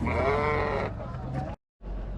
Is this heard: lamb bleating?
yes